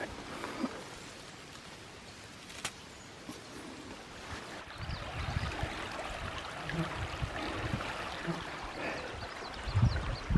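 Flowing river water in the Wisconsin outdoors, a steady broadband wash that swells louder and busier after the first few seconds, continuous and fairly close with no talk.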